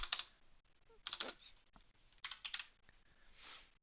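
Computer keyboard typing while entering a search term in a card game deck builder, in quick bursts of clicking keystrokes separated by short pauses, close and fairly quiet.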